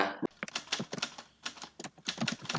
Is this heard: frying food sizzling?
no